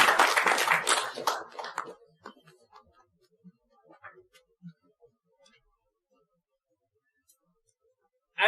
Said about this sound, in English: Give a huge round of applause to Toastmaster Muhammad Bilal.